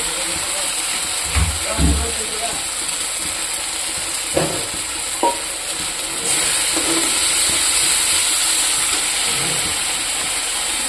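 Spice masala fries in a pan for fish curry, giving a steady close sizzling hiss that grows louder partway through, with a few soft knocks and some speech.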